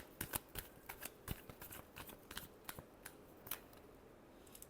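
Tarot cards being shuffled by hand, a run of crisp papery riffles and slaps with irregular bursts, close and fairly quiet, no voices.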